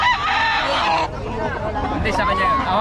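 Roosters crow loudly and repeatedly at a busy cockfighting rooster market in Bocaue, with clucking and a babble of voices from the crowd around them.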